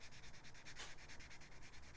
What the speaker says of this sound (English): is very lightly just sand, and we call it sanding